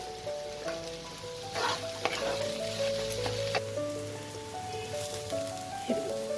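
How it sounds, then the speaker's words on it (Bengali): Fish kachori filling fries in a pan over a medium flame, a steady crackling sizzle with stirring scrapes and a few tonal squeaks from the spoon against the pan. "মিডিয়াম ফ্লেমে ফ্রাই করতে হবে"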